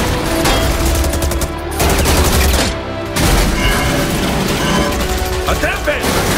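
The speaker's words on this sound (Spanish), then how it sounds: "¡Cohetes listos! ¡Disparan!" Loud bursts of rapid gunfire and rocket launches with mechanical clatter repeat in waves, with shouting voices mixed in, from an animated Overwatch short.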